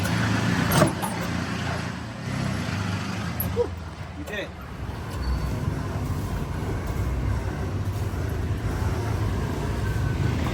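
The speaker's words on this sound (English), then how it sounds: "That's a big hill for the tuk-tuk." An auto rickshaw (tuk-tuk) engine labors steadily while climbing a big hill in Cambodia, a continuous close rumble that holds through the whole stretch with a brief dip partway, with some speech-like sound mixed in.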